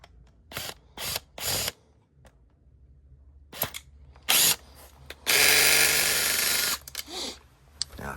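Battery drill backing a Phillips screw out of a Lancer Gen-4 rifle, short sharp whirring bursts with clicks and handling noises, then one longer loud buzzing run near the end, close by.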